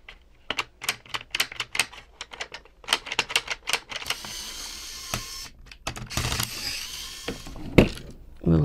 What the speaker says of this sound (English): Little ratcheting wheels.